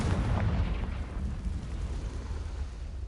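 A fiery Confringo blast from a spell in Hogwarts Legacy, rendered as a loud, rumbling explosion with a heavy low boom that swells at the start and then rolls on as a dense, sustained roar for a few seconds.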